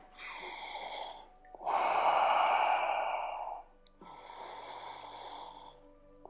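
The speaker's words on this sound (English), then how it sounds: "the deep breathing, diaphragmatic breathing" Slow, deep diaphragmatic breaths drawn in and let out through hands rubbed with essential oil, three long airy sighing breaths close to the mic with brief pauses between them.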